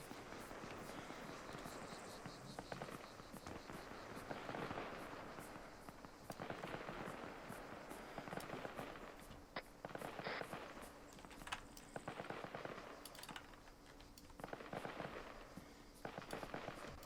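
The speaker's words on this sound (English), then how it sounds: "I think Odin is taking fire from their rear." Distant gunfire in the Arma 3 military game crackles in faint, rapid pops and rattles, a steady far-off background of shots with no one talking.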